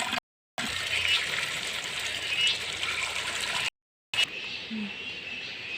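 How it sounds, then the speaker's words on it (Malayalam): Water poured and splashing into a small freshly made backyard fish pond, a steady gurgling stream in two bursts separated by short silences, close and moderately loud. "നമുക്ക് ഈ വെള്ളം അതിൽ കൊണ്ടുപോയി ഒഴിക്കുക."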